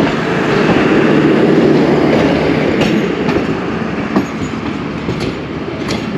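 A passenger train on the Lahore–Rawalpindi short route rolls past at Gujar Khan railway station, a loud, steady rumble with rhythmic wheel clicks and faint squeals, with no talk.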